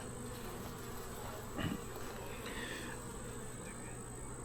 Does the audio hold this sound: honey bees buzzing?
yes